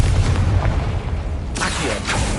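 Confringo fire spell from Hogwarts Legacy, giving a deep booming blast with a rumbling low end, then a sharp second burst near the end, loud and close.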